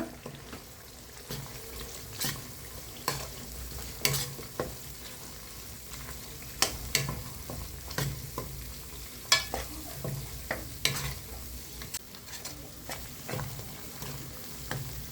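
Coriander and mint thokku being stirred in a hot pan with jaggery, a continuous thick sizzle broken by repeated scraping strokes of a spoon at an uneven rhythm, close and clear, with no voices.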